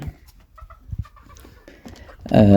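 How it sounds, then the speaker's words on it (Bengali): Fayoumi chickens and roosters let loose in a farmyard, with scattered soft clucks and rustling that build to a loud, close burst of squawking and crowing calls at the end. "এইভাবে এই অংশে ফার্মি মুরগিগুলো ছেড়ে দিলাম"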